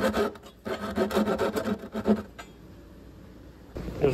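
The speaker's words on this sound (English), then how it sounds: "every now and then you still gotta use a little hand saw" A small hand saw cutting wood with rapid, rasping back-and-forth strokes for about two seconds, close and fairly loud, then quiet.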